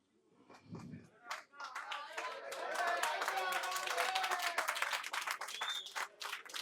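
An audience claps and applauds at a film event, building from scattered claps into dense, sustained applause at moderate distance, with voices mixed in.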